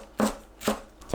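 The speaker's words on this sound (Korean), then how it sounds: "파를 어슷 썰어주세요." A knife cuts green onion diagonally on a cutting board, two crisp chops about half a second apart with a third starting at the end, close and quiet.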